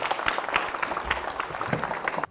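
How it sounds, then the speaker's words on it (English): A small group applauds during a physics demonstration lecture, with scattered, uneven claps of moderate loudness that come through as distinct individual hits rather than a dense roar. "A small round of applause."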